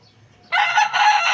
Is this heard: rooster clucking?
yes